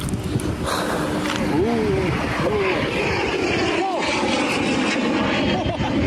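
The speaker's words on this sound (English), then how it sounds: "There's a fighter jet." A fighter jet flies overhead during a storm chase in Oklahoma and Texas, a loud sustained engine roar filling the air with a rushing drone, and voices are heard over it.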